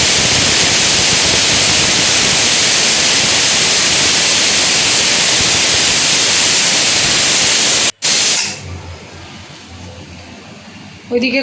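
A pressure cooker cooking dal vents steam with a loud, continuous rushing hiss for about eight seconds, then cuts off abruptly, leaving a much quieter kitchen.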